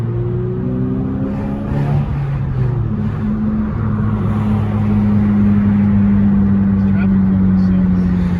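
A Jaguar car passes in traffic with a steady engine drone and a gently shifting pitch, moderately close and continuous, with a voice talking over it.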